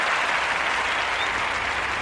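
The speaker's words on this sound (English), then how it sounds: "I give you a little clap for that, Brett Brown." Steady clapping fills the whole stretch, a dense even patter without breaks, close and moderately loud.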